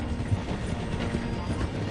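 A train in Red Dead Redemption 2 with a flat carriage rolls along with a continuous low rumble and faint clickety-clack. A few soft thumps sit in the mix.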